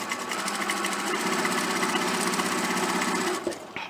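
A sewing machine stitches fabric for a quilted picnic placemat, a close, fast mechanical whir with rapid regular needle chatter that slows and stops near the end, with no talking.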